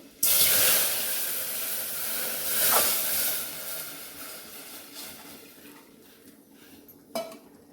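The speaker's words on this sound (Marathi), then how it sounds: "आता मी हे कट ओतते याच्यामध्ये" Garlic-seasoned broth pours into a hot pan with a loud, sustained sizzling hiss that slowly dies down, ending with a brief metallic clink.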